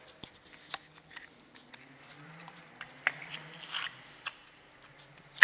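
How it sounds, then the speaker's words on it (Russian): A screwdriver pries a Daewoo Lanos gearshift linkage rod off its ball joints: faint, scattered clicks and small scrapes from the plastic latches, ending in a sharper snap as the rod pops free. "Для этого вот просто открываем защелки и с помощью отвертки стягиваем с яблок."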